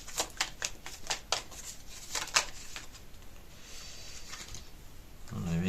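Playing cards shuffled and laid out on a table, a rapid run of crisp riffling flicks up front, then quieter sliding as cards are dealt, close and fairly soft, with a voice entering at the end.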